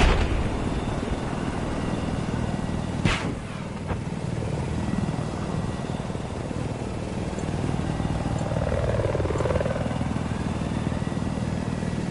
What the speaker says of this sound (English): I see an enemy helicopter.